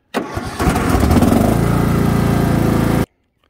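A Cub Cadet XT1 LT42 riding lawn mower engine cranks briefly, then catches and runs loud and close at a steady idle for a few seconds before cutting off abruptly.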